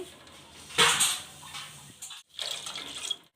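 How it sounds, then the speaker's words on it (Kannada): Three glasses of water are poured into a cooking pot for pulao: close splashing pours, a louder burst, then a short pause and a second steady pour, with faint clinks of the pot and no talk. "ನಾನಿಲ್ಲಿ ಮೂರು ಗಿಲಾಸ್ ನೀರು ಹಾಕ್ತಿದ್ದೀನಿ"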